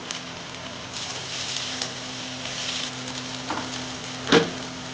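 Tomatoes drop into onion and ginger-garlic paste frying in a pan, giving a steady close sizzle with a few soft knocks and one sharp clatter near the end.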